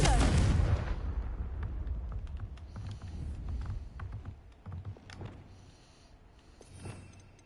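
A Confringo fire spell blasts off in Hogwarts Legacy, opening with a loud explosive burst that decays into rumbling, crackling debris and scattered impact noises, with smaller bursts following.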